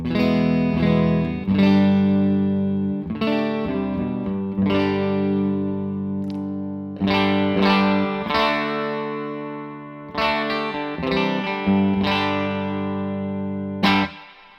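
A Victory V40 The Duchess amplifier's clean channel with reverb plays electric guitar on the neck pickup, chords and single notes ringing out with a noticeable reverb tail, picked in phrases with brief gaps.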